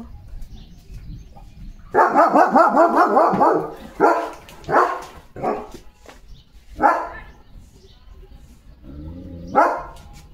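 Several dogs bark on a road after rain in a rough, overlapping volley, then single barks come at irregular intervals, fairly close and loud.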